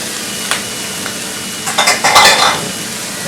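Sweet potatoes and diced apple go into a pan of browning onions, raising a continuous sizzle with a utensil clink early on and a burst of stirring and scraping near the end, no talking.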